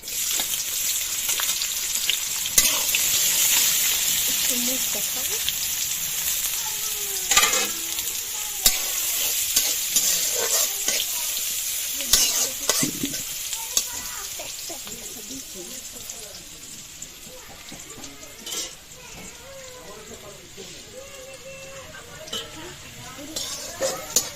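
Chopped onion sizzles and fries steadily in a hot pan, a constant crackling hiss with occasional stirring scrapes and clinks of utensil on metal throughout, alongside a home cooking session of rui fish bhuna and radish fry.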